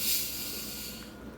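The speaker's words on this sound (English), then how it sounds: "You can hear it fizz." A freshly opened bottle of soda pop fizzes with a loud hiss that bursts at the opening, then settles into a steady, close carbonation fizz with no voices.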